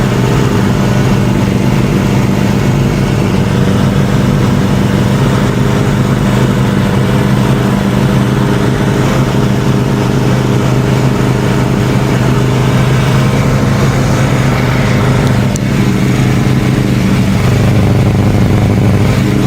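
A Suzuki Bandit 600 four-cylinder motorcycle engine runs loud and close throughout, a continuous rough drone with slight shifts in pitch as it idles and revs to about 3,500 rpm.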